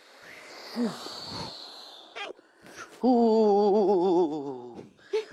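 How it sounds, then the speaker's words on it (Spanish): A long, voiced sigh-like exhale, wavering in pitch, is released while bending forward during a children's breathing exercise, preceded by shorter breathy sounds and ending with a brief breath. "Y soltamos el aire inclinándonos hacia adelante y abajo."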